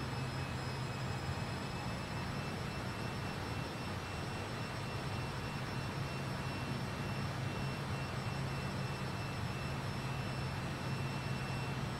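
Fokker F28 jet engines in a flight simulator game, a steady continuous drone with a whine held level throughout, loud and unbroken with no speech.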